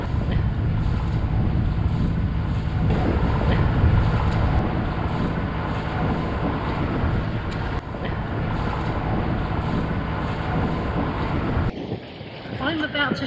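Sailboat under sail, with steady rushing wind and water noise buffeting the microphone throughout and a brief drop near the end.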